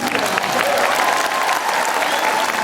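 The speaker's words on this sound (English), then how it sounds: "give him a round of applause." A town hall audience in Ashland, Oregon, bursts into loud, sustained applause, dense clapping filling the room with a faint murmur of the crowd beneath.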